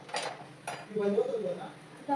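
A metal kadhai (wok) set down on a home kitchen stove, giving a couple of short, light metallic clinks and a soft scrape, fairly close and quiet.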